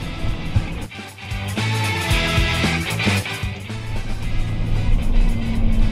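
A car drives around town in Fort Smith, heard from inside as a steady moderate engine and road hum with shifting tones and passing traffic, no voices over it.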